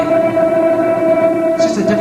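Electric guitar string picked with an angled pick gives a sustained, buzzy tone that rings on steadily, with a brief scratchy pick noise near the end.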